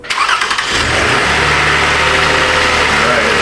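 A 2011 Toyota Sienna engine cranks briefly, then catches and settles into a steady, close idle hum that holds to the end.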